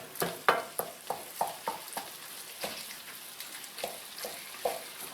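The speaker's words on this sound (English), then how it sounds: "One of the reasons you want to give this a stir is to make sure that nothing's stuck on the bottom" Hamburger Helper stirred in a thick pan: a spoon scrapes and clacks against the pan bottom in an uneven rhythm of about a dozen strokes over a soft sizzle, close and fairly quiet.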